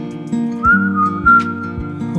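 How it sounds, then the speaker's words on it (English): A high, wavering whistle sounds clearly over a steady backing of instrumental music, close and moderately loud, with no talking. "A whistle calls him away"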